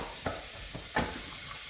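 Vegetables coated in garlic, spices and oil are stirred in a hot pan over high heat, giving a steady sizzle with a few soft scraping strokes of the spoon, close and fairly quiet.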